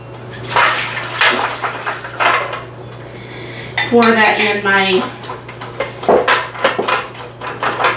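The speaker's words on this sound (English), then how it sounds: "I'm going to go ahead and pour that in" Liquid pours into a metal loaf pan with clattering kitchen sounds around it; a brief ringing metallic scrape rises in the middle, and soft voices come and go.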